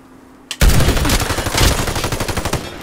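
Rapid automatic gunfire from a sniper-and-rifle firefight in the online shooter Warface Breakout, bursting in loudly after a brief lull and continuing as dense, rattling volleys with sharp individual shots throughout.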